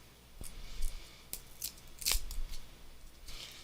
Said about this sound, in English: Let's unwrap this orange and use a little bit of orange here in a minute.